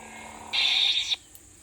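A cheap sound module in a Saberforge lightsaber gives off a brief electronic hum of about half a second that starts and stops abruptly, heard alone over low background noise.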